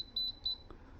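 A blender beeps as its timer is set: two quick pairs of high electronic beeps close by, followed by a faint click, with no talking.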